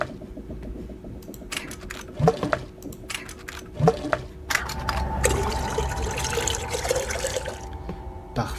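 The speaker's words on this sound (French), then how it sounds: "Tournez les manettes pour permettre à l'eau de couler d'en haut à gauche jusqu'au robinet." Water flowing through pipes to a tap in a video game puzzle: irregular clanks and knocks give way to a steady rushing, trickling flow that continues to the end.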